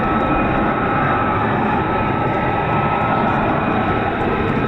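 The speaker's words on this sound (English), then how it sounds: "Pratt & Whitney F135 PW100 turbofan engines." Loud, continuous jet roar from an F-35 fighter's Pratt & Whitney F135 turbofan at RAF Lakenheath, a dense broadband rush holding steady throughout with no voices.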